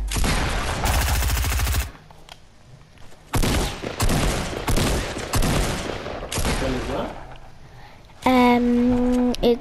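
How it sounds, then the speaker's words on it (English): Tactical shotgun fire in Fortnite: dense bursts of loud gunfire and blasts in several long stretches, broken by brief quieter gaps, ending with a tonal game sound. "It's a tactical shotgun."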